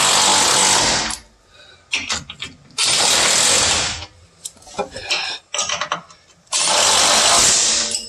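A power tool drives and tightens the lift spacer bolts on a Jeep Wrangler in three loud, close bursts of whirring and rattling impact, with quieter metallic clinks and handling noises in the gaps between them.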